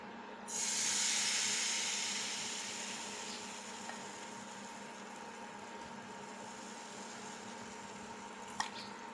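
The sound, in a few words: egg paratha batter sizzling in a hot pan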